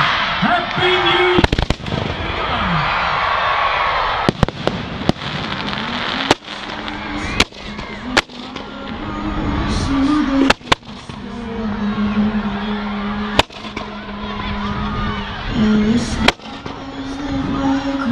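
New Year fireworks burst with repeated loud booms and crackles, irregularly spaced over a roaring crowd, with people shouting and talking throughout.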